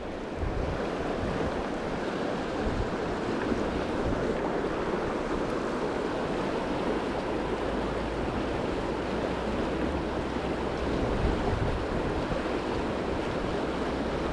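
Fast-moving water of the Cache la Poudre River in Colorado rushes from a bank in a dense, steady roar, loud and unbroken, mixed with wind buffeting the microphone.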